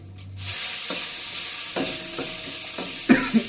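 Onions, chilies and bay leaves hit hot oil in a pan, a steady loud sizzle starting after a short pause, with a few stirring knocks and scrapes near the end.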